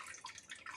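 Water splashing and dripping as a pet bird bathes in a shallow plate of water, a soft, quiet patter of droplets and small splashes with brief bursts, close by and alone.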